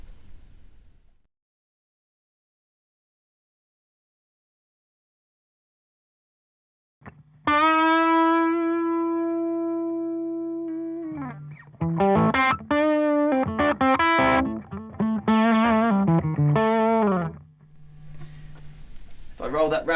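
An electric guitar plays through the compressor effect of a BOSS ME-70 multi-effects unit. A long sustained chord rings out smooth and even, then a run of picked single notes follows, loud and close.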